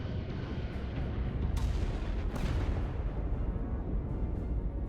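Starship weapons fire in the Star Trek Resurgence video game, a dense, continuous barrage of booming blasts with sharper bursts near 1.6 and 2.4 seconds, loud and sustained throughout with no voices.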